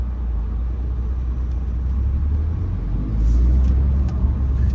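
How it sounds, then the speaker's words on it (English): Afternoon city traffic in a residential Washington DC neighborhood, heard from inside a moving car as a steady low road rumble with a passing vehicle swelling near the end. "It's a little bit of traffic because it's 4:09 p.m., so we do have traffic on the road"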